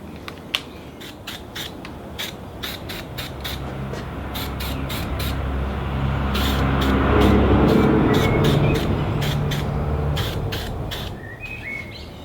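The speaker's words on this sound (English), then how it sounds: "get some rattle can etch prime and just spray it on" A long continuous hiss of an aerosol can spraying etch primer, swelling louder in the middle, with short sharp clicks and faint chirps in the background.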